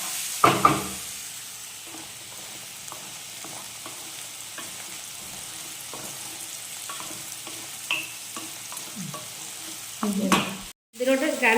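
Sausage and sliced onions with a little salt frying in a pan, a continuous soft sizzle broken by a series of light spatula scrapes and taps as the mix is stirred, close and without talk, ending in a brief louder clatter.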